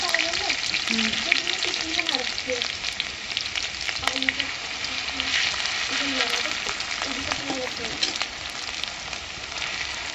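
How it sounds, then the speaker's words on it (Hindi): Green chillies frying in hot ghee, a dense continuous crackling sizzle with frequent pops, close and loud, with faint murmuring speech underneath. "तो यहाँ पर हमारा घी गर्म हो चुका है, तो इसमें हमने थोड़ी सी हरी मिर्च डाल दी है"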